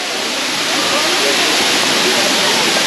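The Anachadikuthu waterfall roars in a loud, steady, broadband rush of falling water that stays constant from start to end.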